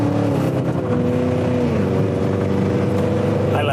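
A car engine revs hard and close, a loud throaty exhaust roar rising in pitch and holding steady throughout.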